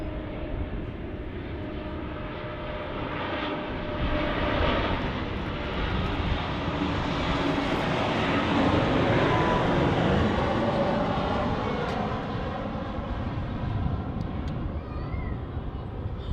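A KLM Embraer jet at Manchester Airport roars past, its engine noise swelling from a steady rumble to a loud peak around the middle and then fading out with a falling whine, no voices present.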